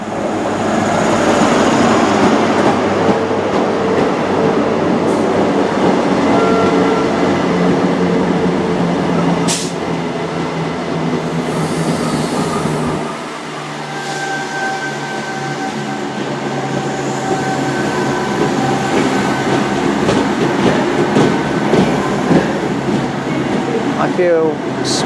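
Great Western Railway train arriving at Reading with a green power car, a loud, steady rumble and hum of the train pulling in close by, with brief squeals and clatter.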